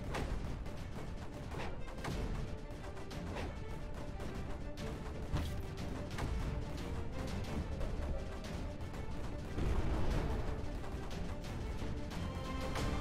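Repeated mortar fire in the strategy video game Creeper World 4, a dense barrage of booming, crashing blasts layered continuously over a rumbling game soundtrack with no pauses.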